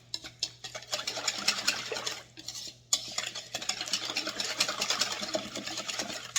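A spoon stirs a lumpy thickening agent for a muscadine hull pie, scraping and clinking against the bowl in quick, uneven strokes, close and alone with a brief pause midway.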